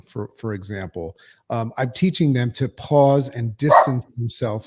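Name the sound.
small dog barking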